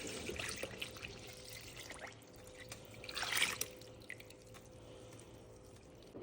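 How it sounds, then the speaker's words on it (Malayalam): Milk poured into payasam, a sweet pudding, making a faint, quiet liquid pour with a brief stronger splash near the middle and soft dripping otherwise. "നമുക്കിതിൽ 1 പാൽ ഒഴിക്കാം"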